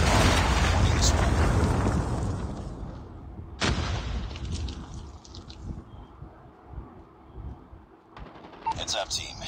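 A Call of Duty Predator missile explosion: a heavy blast rumbles and slowly fades, then a second sharp crack hits partway through. Scattered in-game battle noise and voices fill the rest.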